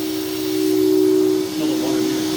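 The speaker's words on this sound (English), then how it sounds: "There's the extractor right there," A Dri-Eaz HVE3000 water extractor running on a water damage job, a loud steady vacuum-like roar with a strong constant tone that dips briefly before resuming, heard close with no talk.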